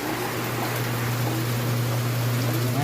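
Steady rain falls continuously, an even, close hiss of drops with a low constant hum underneath and no voices.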